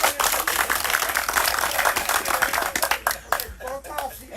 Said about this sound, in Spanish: Un aplauso para Suco.